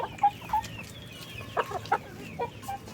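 Backyard chickens cluck in short, scattered calls near the microphone while being fed leftover vegetable scraps like banana and watermelon peels, several birds sounding in an irregular rhythm over a quiet farmyard background.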